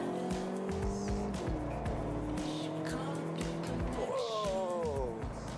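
A Volkswagen Golf GTE hybrid pulls hard under full acceleration. Its engine tone climbs in rising sweeps that drop back at each gear change, heard steadily from inside the car with a brief voice over it.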